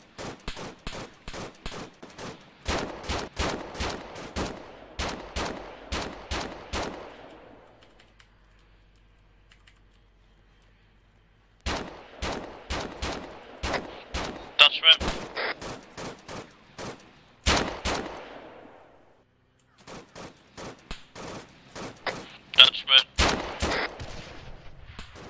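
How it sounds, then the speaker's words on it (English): Bursts of rapid automatic gunfire in the Arma 3 video game, sharp cracks in clustered volleys separated by short quiet gaps, some shots close and loud, others fainter and farther off. "You got something to the right of the road shooting you."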